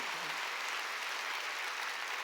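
A church congregation at a Wednesday worship service claps together in a brief, dense, even burst of applause with no voices over it.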